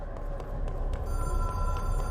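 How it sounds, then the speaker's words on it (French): Telephone ringing inside the video game Control, a steady electronic ring with tonal overtones over a dense low rumbling ambience, no talk. "Le téléphone de l'élu."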